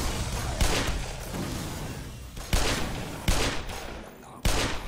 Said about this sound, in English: the freaking rapid fire with my right mouse button